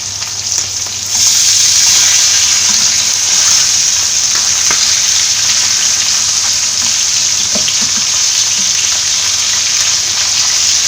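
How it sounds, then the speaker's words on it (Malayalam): Mullet fish fries in oil in a pan, Kerala style, a loud steady hiss and crackle that swells after the first second and holds evenly with small pops, no talking. "ഇപ്പോൾ ഫിഷൊക്കെ ഒരു സൈഡ് ഫ്രൈ ആയിട്ടുണ്ട്."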